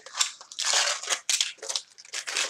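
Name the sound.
removing caramel apple wrapper from foil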